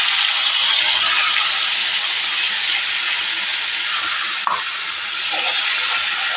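Ginger, cumin, chilli and tomato paste sizzle hard in hot oil after cardamom tempering, a loud, steady hiss that runs throughout with one brief clatter partway.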